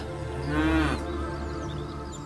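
A cow gives a single drawn-out moo close by, rising and holding for about half a second before breaking off, over a steady low background hum of a farm setting.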